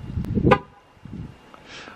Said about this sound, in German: wie das Bestätigungssignal sich anhört, wenn man das Fahrzeug verriegelt